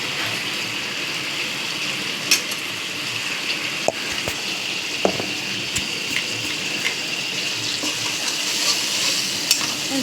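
Spices with turmeric and salt frying in a pan for a fish-head and taro curry, making a steady close sizzle broken by occasional sharp scrapes and clinks from stirring. The sound runs alone, with no talking.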